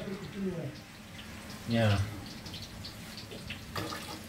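Raw chicken is rinsed under a running kitchen tap while cooking maqluba; a steady wash of flowing water runs throughout, with people talking over it.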